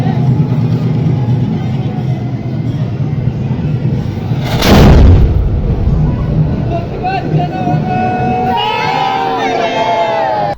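A single loud cannon boom fired as a salute at the close of the Jyotiba temple palanquin ceremony cuts through a noisy festive crowd, with people talking and cheering before and after.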